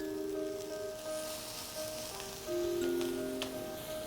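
Patties seasoned with salt, pepper, feta and harissa sizzling quietly in a frying pan, a faint steady crackle with soft hiss and light pops, no talking.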